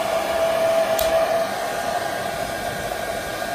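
A Soocas H3S hair dryer runs with its nozzle attached, a loud steady close-up rush of air with a constant motor whine and a faint tick partway through. No voices are heard.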